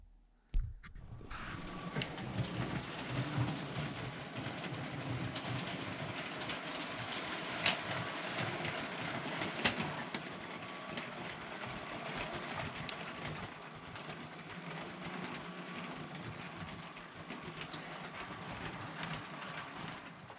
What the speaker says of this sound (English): So now let's run this train around the loop and across the crossing